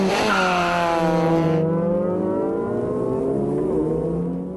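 A Honda S600 and a turbo rotary Mercedes race side by side, engines wailing loudly and rising in pitch through the gears before easing into a falling drone as the cars pull away, with no talk.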